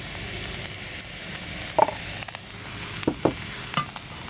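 Chinese pork sausage fried rice sizzles in the pan as dark soy sauce goes in, a soft continuous hiss punctuated by a few sharp clinks and scrapes of a utensil.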